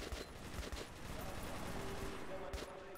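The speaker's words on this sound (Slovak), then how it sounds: "Strieľajú po mne." Dense gunfire in the video game Metro 2033 Redux crackles loudly and steadily, with rapid overlapping shots and a few sharper reports standing out. A tonal whine runs beneath it.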